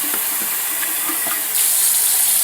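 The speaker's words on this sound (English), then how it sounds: "we'll just fill this mason jar up" Water runs from a tap into a mason jar while microgreen seeds are rinsed, a loud steady splashing rush that brightens and swells partway through as the jar fills, with no talk.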